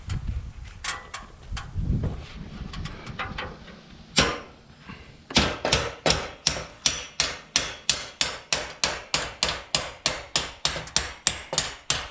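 Steady hammer blows strike in a fast, even rhythm after some scattered knocks and rustling at the start, loud and close.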